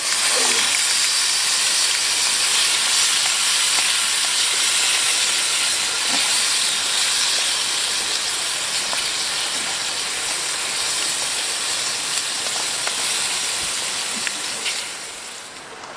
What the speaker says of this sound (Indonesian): Sambelnya kita goreng.